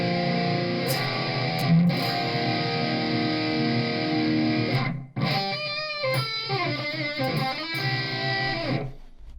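Electric guitar through a drive pedal: distorted chords ring out, sustaining heavily, then a sharp cut before a run of choppy, gritty notes and chords.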